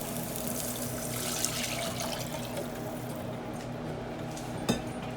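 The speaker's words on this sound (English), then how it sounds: "Then we will add the following, which is the water." Steady running water pours and splashes continuously into a pan at close range, with a brief clink near the end and no voices.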